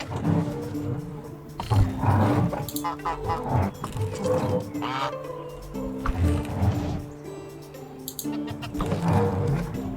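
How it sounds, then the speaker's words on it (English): Geese honk and cackle in the background of the Medieval Dynasty video game, with repeated animal calls rising and falling over steady ambient sound and a voice speaking throughout. "And the geese in the background."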